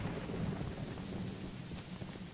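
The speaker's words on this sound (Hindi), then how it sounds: "ये बिजली बहुत गंदी कड़क रही है यार" Steady rain pours with a low rumble of thunder in the horror game Choo Choo Charles, a dense wash of noise throughout with no voices.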